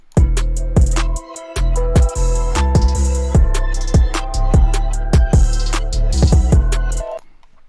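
Drum beat programmed in FL Studio, run through a soft clipper: hard, dense kick and snare hits repeating in a driving pattern with heavy low end, loud and compressed, ending abruptly after about seven seconds.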